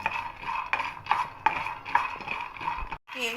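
Peanuts dry roasting in a pan while being stirred, with rhythmic scraping and clattering strokes of the spoon against the metal, close and fairly loud, plus a brief pause near the end.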